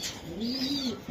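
A Giribaz racing pigeon gives a single soft, close coo lasting about a second in an otherwise quiet space.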